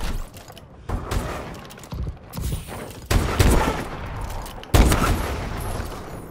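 Sniper rifle shots fired in a multiplayer shooter game, several sharp reports at uneven intervals with game sound between them, fairly loud and close.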